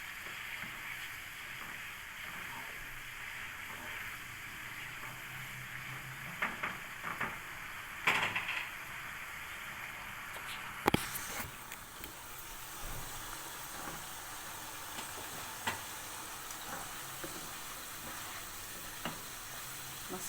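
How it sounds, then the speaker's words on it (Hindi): Masala sizzles steadily in about a cup of hot oil, a soft continuous frying hiss with occasional clinks and stirring scrapes, faint and close. "मसाला फ्राई हो रहा है हमारा।"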